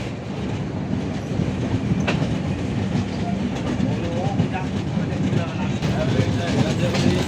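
Onboard a train on the Chennai to Kolkata route, the engine hauls coaches along the tracks with a steady rumbling roll, rhythmic clickety-clack from the wheels and occasional squeaks, continuous throughout.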